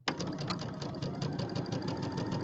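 A sewing machine stitches quilt four-patch pieces together, its fast steady motor hum and rapid needle pulses running continuously and close up, with no talk over it.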